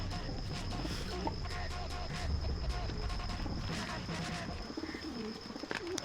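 Pigeon cooing from birds of various breeds kept at a home pigeon sale, low soft coos repeating over a steady noisy background with faint chirps.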